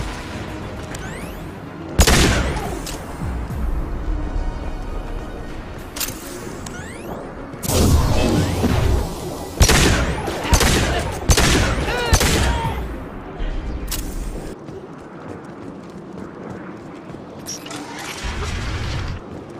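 Mass Effect firefight with several loud bursts of gunfire and booming impacts spread across the stretch, separated by quieter mechanical ambience, with a voice briefly heard.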